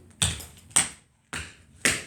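Four sharp, separate taps of feet on a floor, evenly spaced about half a second apart, close and crisp with silence between them and no talking.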